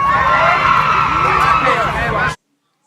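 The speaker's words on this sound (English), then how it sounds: "Guys, make some noise for Erwin." A group of children cheers and shouts loudly together, the noisy burst stopping abruptly into silence.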